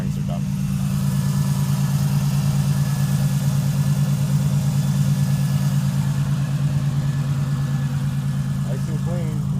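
A 1988 Oldsmobile Cutlass Ciera engine runs steadily with a low, rough hum and a faint grinding rattle from worn-out bearings underneath, constant throughout.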